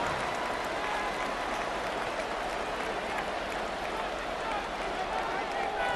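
A simulated stadium crowd in Madden 26, during a Patriots vs Jets football game, keeps up a steady, broad roar that fills the scene at a moderate, even level.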